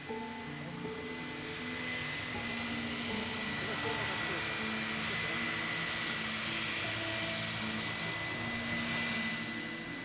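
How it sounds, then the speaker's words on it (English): A UTA DC-10 jet airliner taxiing to the runway at Maya Maya Airport gives a steady, continuous engine whine and roar with sustained tonal hum, holding an even loudness throughout with faint talk underneath. "UTA Flight 772 begins taxiing to the runway at Maya Maya Airport"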